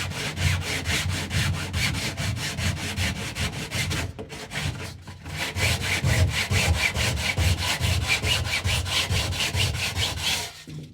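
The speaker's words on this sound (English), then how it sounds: "it's very easy to just go through with a couple of little swipes and sand it down" Hand sanding of wood around a bolt head, quick rhythmic back-and-forth abrasive rubbing strokes, close and continuous with a brief pause midway, no speech.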